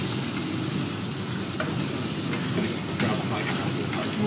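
A pan of mirepoix, carrots and leeks, sizzles steadily while being stirred, a dense continuous hiss with occasional soft scrapes and light clicks of the utensil against the pan.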